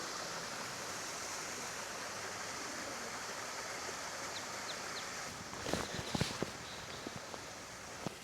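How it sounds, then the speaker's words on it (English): A waterfall and stream in a forest nature reserve give a steady, soft rushing of water, with a few faint bird chirps and some nearby footsteps and handling clicks toward the end. "Oh, there's a waterfall."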